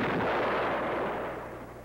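Weapon fired from an AH-56 Cheyenne helicopter striking a tank: a single loud, booming blast that rolls on and slowly fades over about two seconds.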